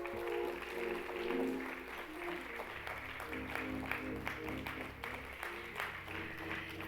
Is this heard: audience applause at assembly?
yes